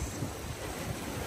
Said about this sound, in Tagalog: Malakas pa rin yung alon.